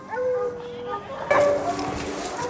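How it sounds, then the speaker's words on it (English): Hounds baying on a black bear hunt in West Virginia, bayed up around a large rock formation in steep country; several drawn-out, overlapping bays and howls carry from a distance, growing louder and denser partway through. "the hounds baying around a large rock formation"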